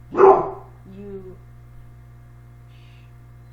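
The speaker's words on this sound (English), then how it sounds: "that's my dog." A dog gives one loud, close bark, followed by a softer short yelp or bark-like sound about a second later, then quiet room hum. A brief spoken word is also present.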